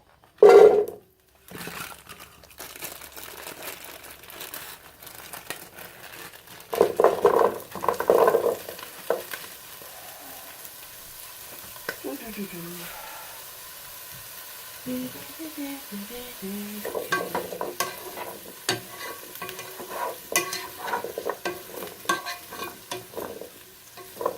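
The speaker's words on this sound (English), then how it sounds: "add the Brussels sprouts and the butternut squash to the pan and cook for 4 to 5 minutes" Brussels sprouts and butternut squash cook in a hot pan, giving a steady low sizzle with scraping stirs in bursts across the clip, and no voices over it.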